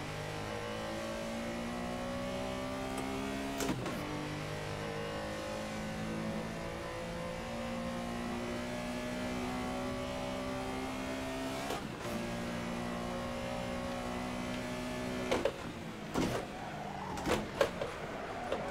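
A race car engine in a racing game at Silverstone drones and climbs through the revs, cut by sharp gear-shift breaks, before a fumbled missed shift near the end leaves a ragged, stuttering burst.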